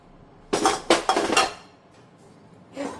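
Gujiya mixture scraped and tipped from a pan into another bowl gives a few sharp metallic clinks and knocks close by, then a quieter scrape and one more clink near the end.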